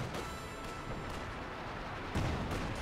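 Rocket artillery fires in the Company of Heroes 2 video game on the Port of Hamburg map, a rumbling series of booms and launch blasts repeating every half second or so, with a louder hit near the end.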